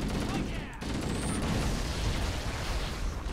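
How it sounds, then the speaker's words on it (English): Dense rumbling explosions in a Halo video game firefight, a continuous loud barrage of blasts and crackling debris with no clear gaps, with a brief dip near the start. "Ooh, lots of things are blowing up."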